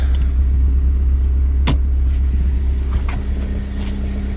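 A 2005 Honda S2000 Roadster running up close, its engine giving a low steady rumble and drone throughout, with one sharp click partway through and no talking.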